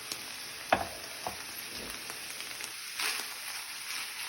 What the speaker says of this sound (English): once the ground beef is browned, we're going to add our 3 cups of shredded cabbage